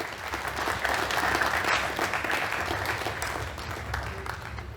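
An audience at a science and social sciences society event applauds to welcome a guest, giving sustained, even clapping from a sizable crowd that holds steady for several seconds.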